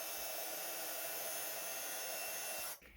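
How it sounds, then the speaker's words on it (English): A craft heat tool blows steadily to melt Wow Superfine gold embossing powder on a card, a constant close airy roar that cuts off near the end. "And then I'll use the Wow Superfine Gold Embossing Powders. I'm going to heat that up."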